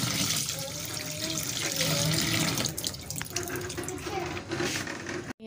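Tap water pours and splashes into a bowl of rice set to soak, a steady close gush with shifting gurgles and clinks, then a sudden stop at the end; a faint voice sounds briefly underneath.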